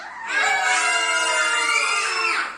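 Children screaming together in one long, loud, sustained high-pitched shriek lasting about two seconds, set against near silence.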